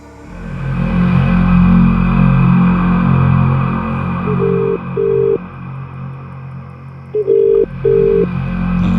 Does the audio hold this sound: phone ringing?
yes